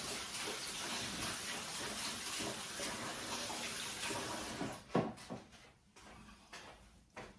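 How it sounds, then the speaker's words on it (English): Tap water runs steadily into a kitchen sink while sticky hands are washed, a close, continuous splash that cuts off near the end, followed by a few handling knocks. "so wash my hands again because they're very sticky"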